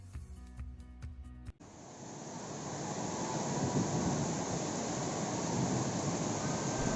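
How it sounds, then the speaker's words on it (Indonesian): A flash flood torrent surges through Pasawahan village in Cicurug, Sukabumi, West Java: a steady, loud, roaring rush of water that builds and then holds, following a brief musical opening. "Derasnya terjangan banjir bandang yang menerjang kawasan Desa Pasawahan, Kecamatan Cicurug, Kabupaten Sukabumi, Jawa Barat"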